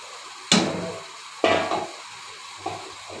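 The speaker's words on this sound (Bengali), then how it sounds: "এখন ঝোল দিয়ে দিচ্ছি।" Broth poured into a duck curry cooking in a pot, with two sharp splashing surges over a low simmering sizzle and a lighter clatter near the end.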